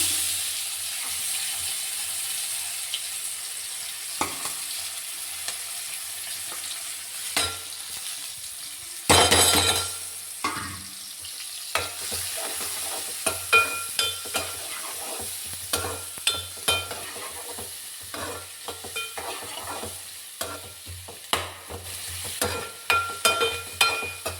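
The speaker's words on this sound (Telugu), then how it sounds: "ఇందులోనే ఉల్లిపాయలు, పచ్చిమిరపకాయలు వేస్తున్నాను." Onions and green chillies frying in oil with turmeric, giving a steady close sizzle and hiss throughout. A loud burst near the start marks them hitting the oil, followed by repeated clicks and scrapes of stirring.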